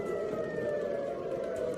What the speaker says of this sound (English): Sounds of sirens in Israel.